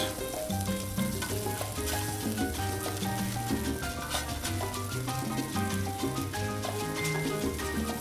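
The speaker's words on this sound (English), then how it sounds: "So you can hear them sizzling, you can see that bubble, and they're ready." Hamburger steaks sizzle on a 22-inch Blackstone griddle with a steady, dense crackle of frying grease that holds at an even level throughout, with no talk over it.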